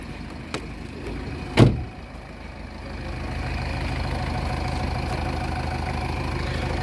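A thud like a door or hood closing, then a Ford Fusion car engine idles steadily, a low, even rumble close by.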